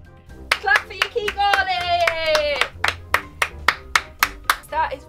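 Sharp hand claps ring out one after another at a steady beat in a kitchen, with a person talking and a sustained sung note over the first half.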